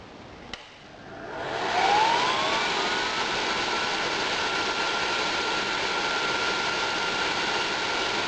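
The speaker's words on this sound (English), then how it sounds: "I'll switch on the motor and we'll see how much amps it draws." An electric blower motor for a melting furnace is switched on with a click, then spins up to full airflow into a loud, steady whoosh with a rising whine that settles into a constant roar.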